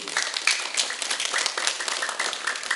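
Brisk, continuous clapping from a primary school audience cheering a children's drama performance, many hands beating fast and fairly close, with a slightly uneven pulse throughout.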